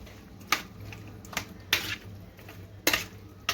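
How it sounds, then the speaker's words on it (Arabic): Chicken is stirred in oil and marinade in a pan, with a spoon giving several sharp clinks and scrapes against the metal at uneven intervals over a quiet sizzle. "بس ونقلب كده تقليبه حلوه، نخلي كل التتبيله ايه فيها"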